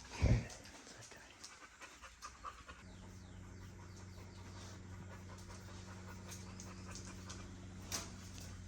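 A farm dog with arthritis pants steadily and rhythmically at close range, quick breaths under a low engine-like hum and an occasional faint bird call.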